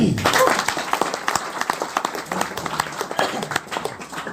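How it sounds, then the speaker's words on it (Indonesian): An audience at a gathering applauds in irregular bursts of close, crisp claps for a few seconds, with some voices mixed in underneath. "Tepuk tangan dulu."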